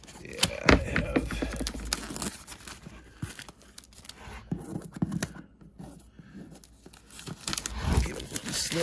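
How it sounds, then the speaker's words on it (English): Shrink wrap being torn and pulled off an Undaunted Stalingrad board game box, with close crinkling, ripping and scratchy plastic handling in irregular bursts and pauses. "Let's get the shrink off here."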